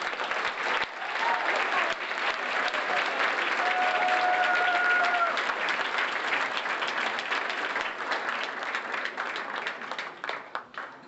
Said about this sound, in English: Let's recognize our Associate of Arts degree recipients with one more round of applause